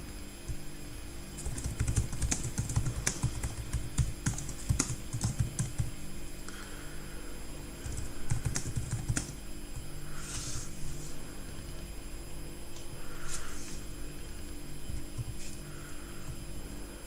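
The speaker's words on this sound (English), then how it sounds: "I'm just typing up on the Telegram group for Floki" Rapid clicking keystrokes on a computer keyboard come in bursts with short pauses, close and fairly quiet over a faint steady electrical hum.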